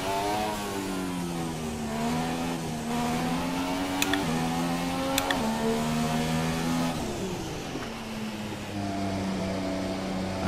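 An F1 race car in a racing video game pulls into the pits, its high-pitched engine droning steadily with shifting tones as it slows and gear changes step the pitch down, with a couple of sharp clicks along the way.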